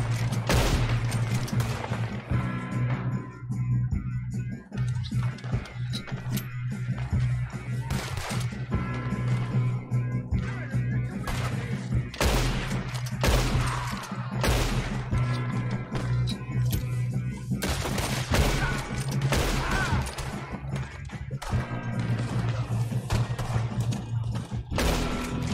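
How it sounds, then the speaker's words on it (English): Sustained gunfire from Red Dead Redemption 2, a dense fusillade of rifle and pistol shots with repeated sharp bursts over a steady low in-game hum, loud and continuous across the whole stretch. "Good shooting, kid."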